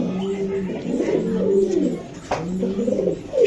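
A male racing pigeon, raced twice with the BRPFC club, gives repeated low rolling coos up close over a soft background hum, with no clear voices.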